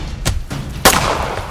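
Gunfire in an animated comic book movie where police open fire, two sharp, loud shots about half a second apart, the second followed by a lingering echoing tail.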